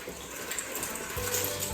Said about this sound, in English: you're just going to slowly start to pour it in.